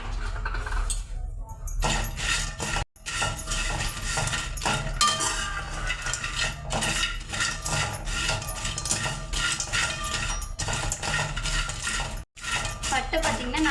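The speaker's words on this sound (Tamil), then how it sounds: "அடுத்தது பட்டை 200 கிராம் ஆட் பண்ணிக்கலாங்க" Cinnamon sticks being dry roasted in a pan for garam masala: continuous close clattering and scraping of hard sticks against metal, busy and rhythmic, with a couple of brief pauses.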